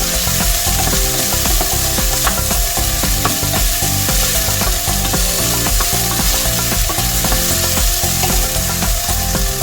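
Sliced onion fries in a pan for coconut-milk pork adobo, giving a loud, dense sizzle with repeated scraping and clattering as it is stirred. The sound stays close and constant and no one talks.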